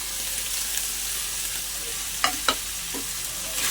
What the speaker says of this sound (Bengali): আদা রসুন বাটাটা মাংসটা একটু ভালো করে ভাজা ভাজা করে নেবো